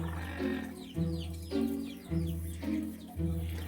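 A pet lorikeet squawks up close in a series of short, shrill, rising and falling screeches, roughly four bursts separated by brief pauses over a low background hum.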